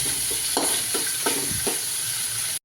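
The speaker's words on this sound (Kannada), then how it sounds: "ಟೊಮೊಟೊ ಸೇರಿಸ್ಬಿಡ್ತಾ ಇದ್ದೀವಿ ಇವೆಲ್ಲ ಎಣ್ಣೆಲ್ಲೇ ಚೆನ್ನಾಗಿ ಫ್ರೈ ಮಾಡ್ಕೋಬೇಕು" Tomatoes and spices fry in hot oil in a home kitchen pan, giving a soft continuous sizzle broken by about five rhythmic scraping stirs; no one speaks.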